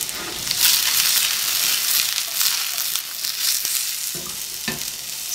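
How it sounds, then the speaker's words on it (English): Garlic sautéing in a pan for a Whole30 dish, giving a loud, steady sizzle and crackle with occasional stirring scrapes, heard alone without talk. "But this is gonna be sauteing for a bit."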